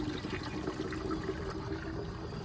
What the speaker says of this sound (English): Open that air relief here. It will send water back to the pot.